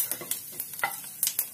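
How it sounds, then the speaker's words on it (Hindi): Cumin seeds sizzle in oil heated for tempering a besan kadhi, with sharp crackles and pops over a soft frying hiss while a spoon stirs and scrapes the pan at close range. "अब हम इसमें जीरा डालेंगे। जीरे को हल्का ब्राउन करेंगे"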